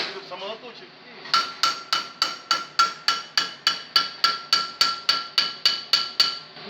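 A small hammer taps a metal Mitsubishi Pajero 4D56 cylinder head at a steady, even pace, about sixteen bright ringing strikes, close and clear, after a brief quiet stretch with faint low sounds.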